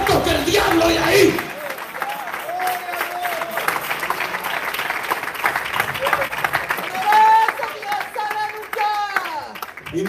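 Church congregation applauding during a sermon: a loud burst of clapping at the start, then a preacher talks animatedly while scattered crowd noise continues beneath and swells again briefly.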